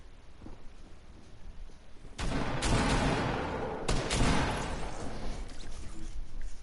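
Shotgun fire in a video game: two heavy, booming blasts a couple of seconds apart, each followed by a loud, noisy wash of combat sound that lingers.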